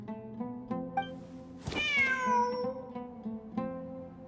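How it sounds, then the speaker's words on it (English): A cat in a video game set in desert sands meows several times, with one long, loud, drawn-out meow in the middle and shorter calls before and after, over quiet background tones. "Wait, there it is! The cat!"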